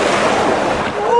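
Surf washing onto the shore at a beach in Cannes, France, a steady broadband rush with wind buffeting the microphone and a voice briefly audible near the end.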